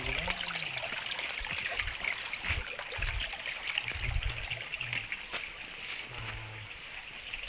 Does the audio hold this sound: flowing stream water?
yes